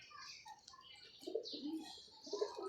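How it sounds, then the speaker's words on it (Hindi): Pigeons on a rooftop coo in low, soft, repeated calls that come in two or three bursts, over faint higher chirps from other birds in the background. "और ये छतों का कबूतर है।"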